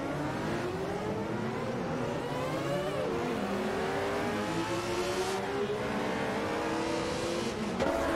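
Group C race cars accelerate off the start line at Riverside in a racing video game. A dense, continuous roar of several engines rises in pitch as they rev and pull away, steady and loud throughout.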